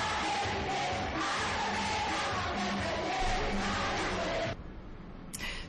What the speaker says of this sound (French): Chants, clameurs de joie et acclamations étaient également de la partie.